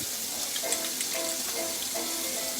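Tap water runs steadily into a sink for hand washing before chopping chicken in a cooking class kitchen. It makes a continuous close splashing hiss with faint tonal ringing, and no talk is heard.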